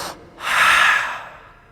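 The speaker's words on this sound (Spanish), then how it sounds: "Cuando respiras, ese sonido que sale de ti" A person breathing out audibly, a single soft breathy exhalation lasting about a second, close and alone.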